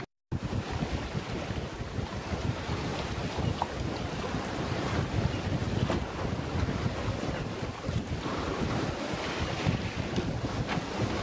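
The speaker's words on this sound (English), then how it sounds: "the wind, well, it's picked up quite nicely" Wind buffeting the microphone aboard a sailboat at sea, a continuous loud rushing roar with water washing along the hull beneath it, no talk.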